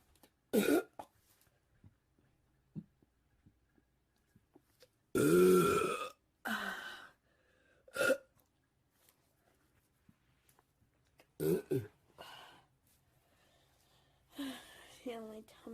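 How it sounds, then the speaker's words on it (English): A person lets out a series of loud, deep belches after drinking cheap beer, spaced irregularly across the stretch with quiet gaps and small breaths and throat sounds between them. "Decided I was gonna drink this really crappy beer tonight and do a little bit of burping for you."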